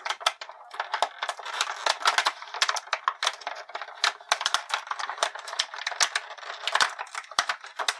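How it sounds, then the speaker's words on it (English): Plastic blister packaging from a WWE Basics NXT Sasha Banks action figure crushed and crackling, a dense run of sharp, close crinkles and pops with no talking. "That bubble was just crushed"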